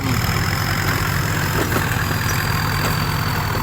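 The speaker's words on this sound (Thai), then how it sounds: "วันนี้ได้มาขับ รถไถคูบต้า" A Kubota tractor's diesel engine runs steadily at idle, a continuous low rumbling drone with a faint knocking pulse, loud and close with no voices over it.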